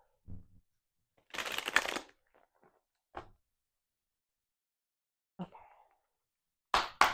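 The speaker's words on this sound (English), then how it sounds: "All right, let's get one more shuffle." Tarot cards are shuffled in a quiet room, with a longer riffling burst followed by scattered short card flicks and taps, close and clear, ending in two quick shuffling bursts.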